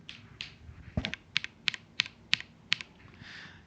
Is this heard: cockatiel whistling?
no